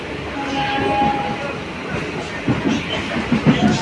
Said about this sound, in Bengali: এইমাত্র ছেড়ে দিল আমাদের ট্রেন শিয়ালদা স্টেশন থেকে।